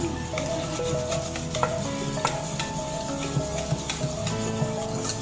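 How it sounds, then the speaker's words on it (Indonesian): Milk being stirred into pumpkin chiffon cake batter in a bowl, a continuous busy stirring and scraping texture with small utensil clinks, no voices. "Kita masukkan susunya. Kita aduk dulu jadi satu."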